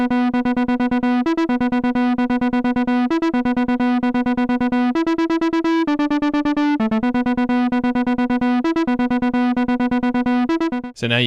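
Roland AIRA Compact J6 synth plays a lead line: a loud, bright, buzzy tone in rapid, steady staccato sixteenth-note pulses that shift pitch between short phrases, alone with no talking and a brief noisy burst at the very end.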